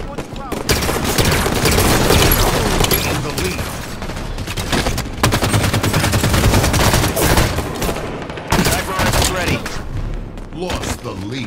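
Gunfire in the video game Halo 5 during a slayer match: loud, continuous bursts of automatic fire and heavy thuds that fill the whole stretch, with brief game announcer voice lines over it.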